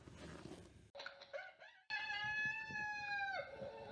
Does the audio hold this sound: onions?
no